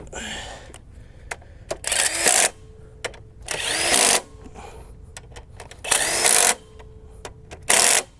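An impact gun drives bolts in during an alternator change, firing in several loud, close bursts of buzzing rattle about two seconds apart, with short clicks and quiet handling noise between the bursts.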